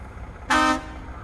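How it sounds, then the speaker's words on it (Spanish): A single truck horn blast from an International HX 520 in the SnowRunner video game, loud and close, lasting about a third of a second as a steady harmonic tone that stops sharply. "bocina de camión, como debe ser"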